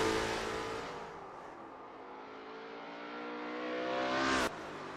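Racing-game engine of a Lola T70 MkII Spyder at Kyalami 1967, a loud sustained roar that eases slightly, then climbs in pitch as revs build before cutting off sharply near the end, with no talking.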